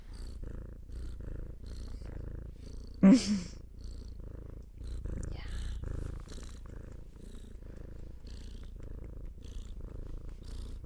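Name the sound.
cat purring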